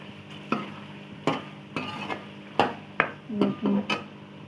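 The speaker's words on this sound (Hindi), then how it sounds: "सारे मसालों को अच्छी तरीके से मिक्स कर लेंगे ताकि अच्छी तरीके से मिक्स हो जाए।" Spices being stirred in a pot for beef nihari, a spoon scraping and knocking in irregular short strokes with a faint sizzle underneath, close and moderately loud.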